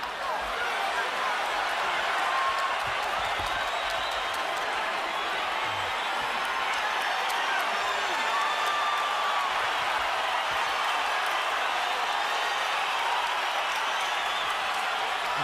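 Boxing arena crowd at the Shane Mosley vs Sergio Mora fight, a dense, continuous roar of excited spectators filling the space, with commentators talking under it.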